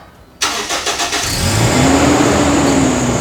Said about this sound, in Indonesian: di tombol ini bisa juga kita menghidupkan mesin